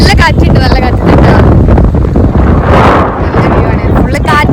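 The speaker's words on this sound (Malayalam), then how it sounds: "ഇവിടെ നല്ല കാറ്റുണ്ട്" Strong wind buffets the microphone on an island in Goa, a loud, continuous roar with heavy low rumbling gusts that rise and fall across the whole moment.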